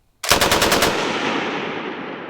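A 1942-era Bren light machine gun fires a short rapid burst of about seven loud, close shots on a range, followed by a long ringing echo that slowly fades.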